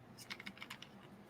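Quick, light keystrokes on a computer keyboard, a short cluster of about eight soft clicks in an uneven rhythm, close by and quiet, with no voices.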